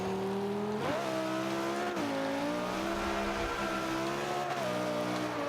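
A 2005 Honda NSX in Forza 5 races along, its engine droning loud and steady as the pitch climbs through the revs, drops at each gear change and eases off under braking, with no talking.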